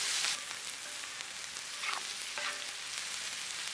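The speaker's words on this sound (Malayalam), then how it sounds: "ഒരു കിലോ സവാള ചെറുതായിട്ട് അരിഞ്ഞത് ഒന്ന് ഇളക്കി കൊടുക്കണം" A kilo of finely chopped onions frying in oil for pearl spot fish gravy, a bright dense sizzle with a few stirring scrapes, close and steady.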